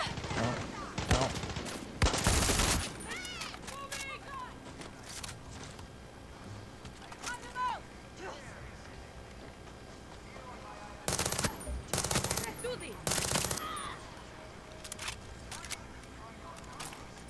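Gunfire in the video game Far Cry 6 comes as several loud, close bursts of automatic fire and single shots, separated by quieter stretches of ambient game noise and small clatters.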